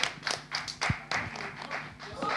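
Several people clap in an uneven, scattered rhythm for a couple of seconds while voices talk over the applause.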